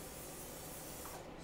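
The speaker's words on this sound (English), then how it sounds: "spray down a little oil." Cooking oil spray on a griddle while making pork cheesesteaks, a faint, steady hiss lasting about a second and a half with no talk over it.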